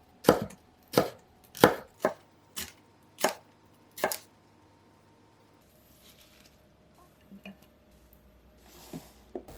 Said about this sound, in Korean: 파프리카는 가늘게 채 써세요.